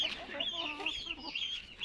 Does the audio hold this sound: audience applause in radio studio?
no